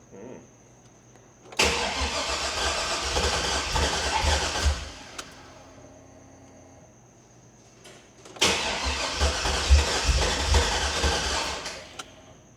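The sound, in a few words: LS swapped car engine starting for the first time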